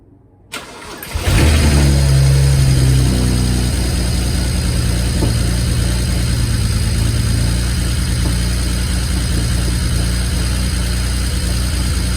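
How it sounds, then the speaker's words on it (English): A BMW E90 335i with the N54 engine cranks briefly and fires up loudly, then settles into a steady, even idle that drones on close by with no talking. "I'm going to turn on the car, and hopefully everything starts up fine."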